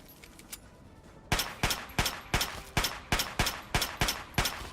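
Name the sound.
pistol gunshots in video game Fallout 3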